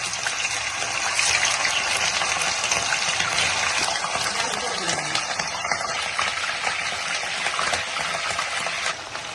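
Washed chicken pieces for a restaurant-style chicken fry crackle and sputter in hot oil, a continuous loud close sizzle with bursts of popping throughout, no voices.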